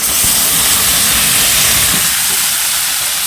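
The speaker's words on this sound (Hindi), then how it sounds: "अब मैं इन उबले हुए पत्तों को कढ़ाई में डाल दूँगी।" Boiled leaves tipped into a hot kadhai of browned fried onions, a loud, steady sizzle and hiss filling the whole moment close up, with no talking.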